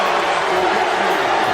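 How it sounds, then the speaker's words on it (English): Crowd cheering in a packed basketball arena during the VCU vs. Richmond A10 Tournament game, a steady roar throughout the short stretch with no lull, loud and close. "Listen to this crowd."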